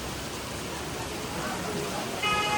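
Heavy rain hisses in a dense, even wash throughout, swelling a little toward the end, with faint indistinct voices beneath it, during a downpour that has left standing water everywhere.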